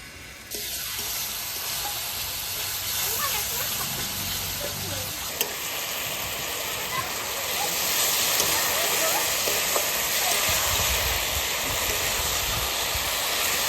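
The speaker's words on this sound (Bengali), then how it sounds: "এবার শুধু ফোড়ন দেওয়ার অপেক্ষায়। শুধু ফোড়নটা দেবো।" Spices tempering in hot oil for tomato chutney sizzle steadily in a pan, a continuous loud frying hiss with occasional stirring that swells slightly toward the end.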